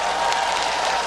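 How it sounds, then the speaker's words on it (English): Crowd at a League of Legends World Championship quarter-final match applauding and cheering, a dense, steady wall of clapping that fills the whole short moment. "These guys are ready to cheer today."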